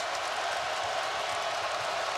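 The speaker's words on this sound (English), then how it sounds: "The Virginia crowd giving the defense a round of applause." A basketball arena crowd at a Virginia game applauding its defense, a steady wash of clapping and crowd noise that fills the whole moment with no clear voices.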